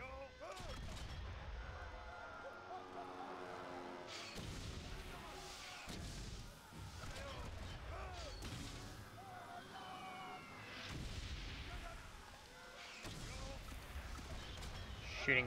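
Battlefield gunfire and artillery shelling from the First World War game Valiant Hearts, heavy booms and shots recurring every few seconds amid music, with a voice talking over them.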